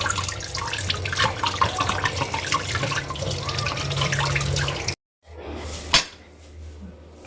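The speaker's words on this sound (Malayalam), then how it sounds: "അപ്പം നമുക്കൊന്ന് കഴുകി കൊടുക്കാം ജസ്റ്റ് ജസ്റ്റ് ഒന്നും അല്ല നന്നായിട്ട് കഴുകി കൊടുക്കണം" Running tap water pours steadily while food is washed by hand in a kitchen sink, a close continuous splashing that cuts off abruptly, followed by a faint drip and a single knock.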